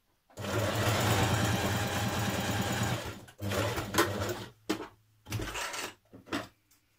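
A sewing machine top stitching a pocket runs in a steady, close whirring stretch for about three seconds, then in several shorter bursts with brief pauses between them.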